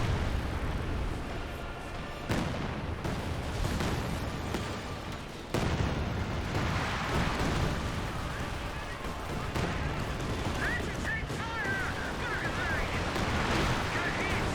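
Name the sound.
artillery fire in video game Company of Heroes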